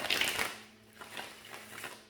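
Tarot cards shuffled by hand, a brief, soft papery burst of riffling at the start that fades to faint, quiet rustling, with no talking.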